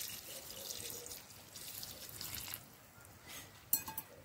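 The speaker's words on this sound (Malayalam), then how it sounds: "നമ്മൾ നമ്മുടെ താറാവിലേക്ക് ഇതിന്റെ രണ്ടാം പാല് ഒഴിക്കാനാണ് കേട്ടോ" Thin second coconut milk is poured into a Kerala-style duck curry, a soft, quiet trickling and splashing of liquid that swells and fades, ending with a few sharper clinks and drips.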